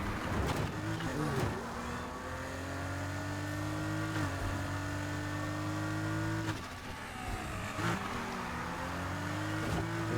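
Nissan Fairlady 240Z in the racing game Need for Speed Heat, its engine droning steadily and rising in pitch through several gear changes, loud and close throughout.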